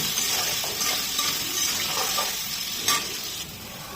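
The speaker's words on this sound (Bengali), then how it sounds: "হলুদ দিয়ে ভালো করে নেড়ে করে ভেজে নিব" Potatoes sizzle in hot oil with turmeric while a utensil stirs and scrapes the pan, steady and close.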